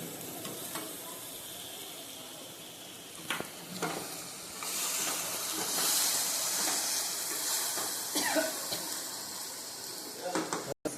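Ground masala hitting hot oil in a pan for a dhaba-style whole onion curry, a broad steady sizzle that swells midway with some stirring scrapes, close and fairly loud.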